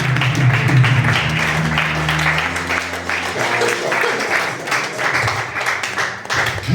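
A church congregation applauds in a sustained burst of clapping while voices and a low sung or called tone carry over it, loud and close throughout.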